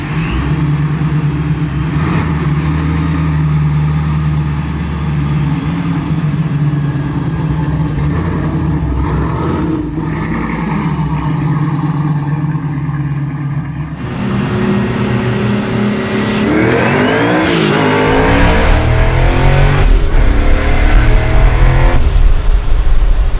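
A 1000hp Procharged Ford F100 truck engine rumbles steadily, then revs harder with rising, sweeping pitch in the final seconds as tires shred; loud, close and without talk.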